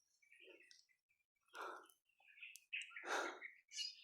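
Birds chirp quietly in short, scattered bursts with pauses between calls, distant and isolated in an otherwise silent setting.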